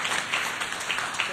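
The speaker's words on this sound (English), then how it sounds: "Let's give him a big round of applause as he comes forward." Audience applause at an economic summit, a steady wash of many hands clapping at moderate distance, unbroken for the whole moment with no voices on top.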